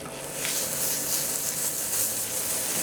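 Leafy greens sautéed with garlic in a pan for a chicken breast escalope dish give off a steady, loud sizzling hiss that runs unbroken throughout, with no voices.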